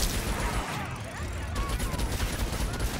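Rapid bursts of automatic gunfire fill the Rage 2 shooter video game, a dense, steady clatter of shots running throughout with brief louder cracks.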